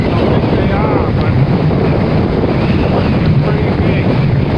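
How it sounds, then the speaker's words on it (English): Strong wind at the shore on Plum Island during Hurricane Jose in 2017 roars loudly and continuously, buffeting the microphone, with crashing surf underneath throughout. "The wind is blowing really hard in off."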